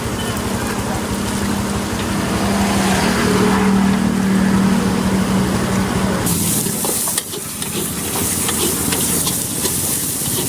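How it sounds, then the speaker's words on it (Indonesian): Steady loud roaring hiss of an electric fan blowing air over the charcoal fire of a nasi goreng street stall, continuous throughout with a brief dip partway. "ternyata di bawah ada kipas angin juga, jadi baranya biar menyala."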